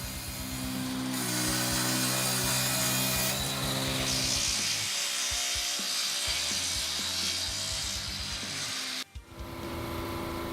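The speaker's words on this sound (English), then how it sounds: "Close-up of the process of processing old wood at Edmiston Sawmill." Saw cutting old wood at a sawmill, a steady loud grinding rasp with humming machinery tones running continuously close up, a brief dropout near the end, no talk.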